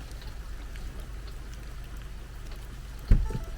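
Steady rain falls outdoors in a small coastal town in South Carolina, a constant close hiss of drops with a single sharper knock near the end.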